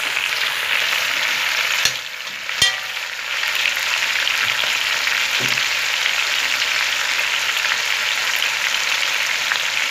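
Tomato and onion frying on a wood-fired stove, releasing their juices. A strong, steady sizzle fills the sound, broken by a couple of sharp utensil knocks from stirring near the start, and no one speaks.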